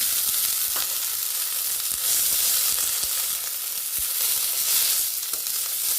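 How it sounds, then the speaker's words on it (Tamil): Puliyodharai ingredients with coriander roasting in a pan over a low flame, giving a steady close sizzle with faint scraping and stirring ticks throughout, no talking. "சிம்மில் வச்சு தான் நான் இதை வந்து ரோஸ்ட் பண்ணி எடுத்துக்கிறேன்"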